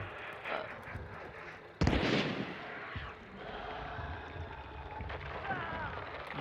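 Gunfire in the video game Hunt: Showdown: one sharp, loud blast stands out amid rumbling distant shots and a noisy battlefield bed, with people talking over the action.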